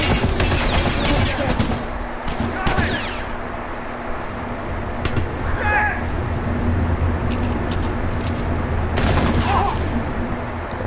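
Scattered gunshots in the game The Last of Us Remastered, a few sharp cracks and short bursts spread through the stretch over a steady background of game noise and chatter.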